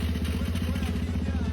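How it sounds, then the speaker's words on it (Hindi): A Pulsar motorcycle engine catches and settles into a steady, rapid low thumping idle on a cold night stop, close and continuous for a moment. "पल्सर की बाइक स्टार्ट हो गई।"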